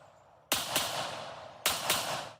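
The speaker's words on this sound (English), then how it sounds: "Video from his TikTok page titled "No Hands, No Feet, Shooting 9mm Handgun."" Two loud, sharp gunshots from a 9mm handgun ring out about a second apart, each followed by a short echoing tail, with no talking.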